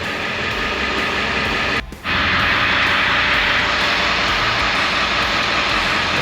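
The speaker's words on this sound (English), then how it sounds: "I'm gonna let this engine run for a little bit, get it up to operating temp." A Ford 7.3 litre Powerstroke diesel truck engine idles with a loud, steady rumble, with one brief dip in the noise partway through before it carries on unchanged.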